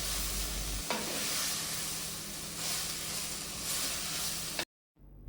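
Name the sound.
stirring bitter gourd frying in a pan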